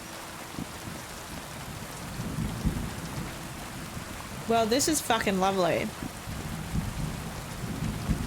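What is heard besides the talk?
thunder and rain in video game Kingdom Come Deliverance II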